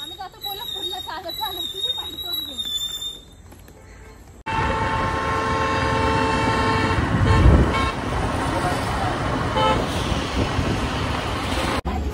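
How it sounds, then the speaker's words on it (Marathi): A vehicle on the road to Kolhapur gives a loud, steady driving rumble that cuts in suddenly, with a brief horn toot, after earlier chatter and high-pitched whistling; voices talk over parts of it. "आवाज बघ गाडीचा"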